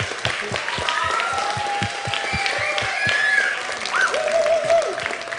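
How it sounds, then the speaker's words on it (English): Audience applause at an esports racing finals for Project CARS 2, steady close clapping from a crowd that runs continuously with whistles or cheers rising over it. "Again, a round of applause, guys"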